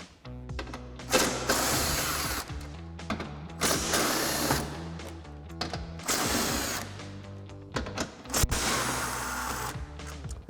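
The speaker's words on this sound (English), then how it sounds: "We're going to remove these 4 bolts." A 13mm socket ratchet on an extension works bolts loose during a Jeep Gladiator JT front bumper install, giving four long bursts of fast metallic clicking, loud and close, with brief gaps between them.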